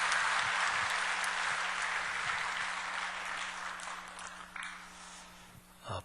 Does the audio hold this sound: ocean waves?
no